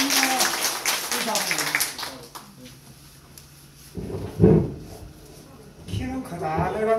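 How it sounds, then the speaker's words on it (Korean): An audience in an indoor gathering breaks into scattered applause, with a burst of clapping in the early seconds. A voice talks over and around it, and a thump follows later. "제가 박수를 한번 모시겠습니다"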